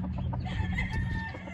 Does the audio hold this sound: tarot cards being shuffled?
no